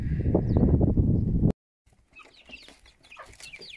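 Chickens cluck close by, with a loud burst at first, then after a short pause, softer, higher clucks and chirps continue.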